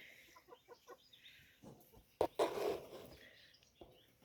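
Chickens cluck softly in a quick series of short calls at a country garden plot, then one bird lets out a louder, brief squawk before quieting again.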